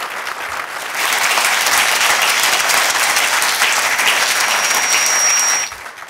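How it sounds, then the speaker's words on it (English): Audience applause at the TROOPERS13 security conference after a talk on IPv6 and FOCA, a steady, dense wash of clapping from a sizeable crowd that swells after a second and holds loudly before stopping abruptly near the end. "I think applause."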